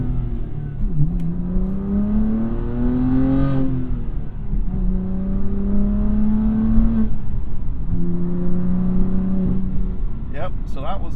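Revving of a BMW M2 Competition through an equal-length Valvetronic valved exhaust, with repeated rises in pitch and drops back, heard from inside the car, growing harsher at higher revs, with a voice talking over it.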